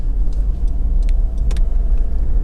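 A Honda CR-V 1.6 i-DTEC diesel on a test drive gives a loud, steady low engine and road rumble from inside the cabin, with a few faint clicks and rattles over it.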